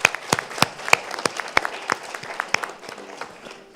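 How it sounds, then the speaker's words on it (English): An audience applauding at a Honolulu City Council ceremony, a modest scattering of claps at moderate distance, thinning out toward the end. "Let's give them all a round of applause again"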